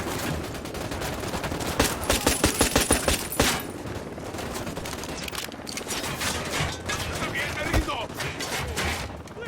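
Gunfire in Ghost Recon Wildlands, a rapid automatic burst with clear repeated shots followed by more scattered firing and commotion, with voices talking amid the shooting.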